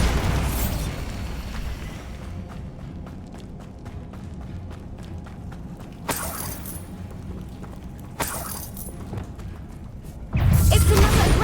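The Bombarda spell goes off in the video game Hogwarts Legacy, sounding as a series of booming bursts and pops over game music and mechanical clatter, with louder impacts near the middle and a heavy blast at the end.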